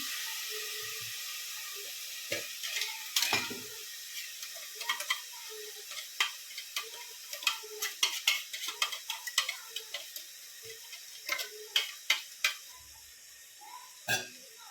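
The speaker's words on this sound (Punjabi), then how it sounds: "ਮਸਾਲੇ ਨੂੰ ਕਰਾਂਗੇ ਮਿਕਸ ਇਹਨੂੰ ਭੁੰਨਾਂਗੇ ਚੰਗੀ ਤਰ੍ਹਾਂ" Ground spices, red chilli and turmeric being mixed and roasted in a pan give soft, faint sizzling under scattered ticking taps of a spoon against the pan.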